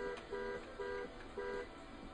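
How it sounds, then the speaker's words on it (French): A small car horn in TrackMania Nations Forever toots three short, clear honks in an even rhythm, moderately loud over a faint game background. "Et je vais lancer le petit klaxon."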